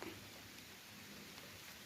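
Light rain falling outdoors at a fishing spot, a soft, faint, continuous patter of drops with no speech, steady throughout.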